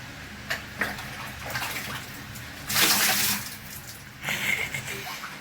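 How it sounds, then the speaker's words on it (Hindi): A child splashes in a bathtub, with soft water sloshes and a few louder bursts of splashing close by. "एक गंदा नंगा पुंगा नहा रहा है जी टप के"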